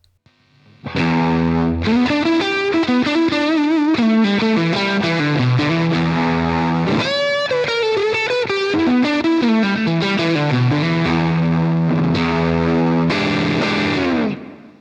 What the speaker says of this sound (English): The way that I've got it set up at the moment is for that really sort of chewy fuzz sound.